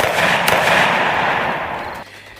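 A gunshot effect in a Thai audio drama, a loud burst of noisy crackle that sustains for about two seconds and then drops abruptly into a quieter tail.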